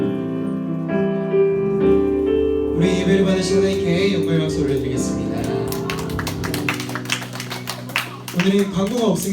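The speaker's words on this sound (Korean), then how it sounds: "우리 예배를 받으신 하나님께 영광의 박수 올려드리겠습니다." A middle-school congregation claps at the close of a Sunday church service, while sustained organ or keyboard chords ring underneath. The clapping starts sparse and builds into a dense burst toward the end.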